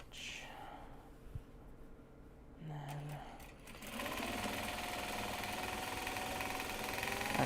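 A sewing machine back stitches a fabric bag made from Japanese fabric, its motor running in a steady, fairly loud drone that starts partway through after quieter handling sounds and persists to the end.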